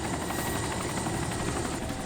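Helicopter in the video game DayZ, a continuous whirring rotor drone with a fast choppy pulse, steady and moderately loud throughout, no talk.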